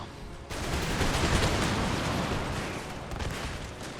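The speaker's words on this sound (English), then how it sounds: "And then as soon as you passed, 4th Battalion will open fire." A musket volley from an infantry battalion in Empire: Total War, erupting suddenly as a loud crackling burst of many shots at once, then rolling on as a long rumbling fade.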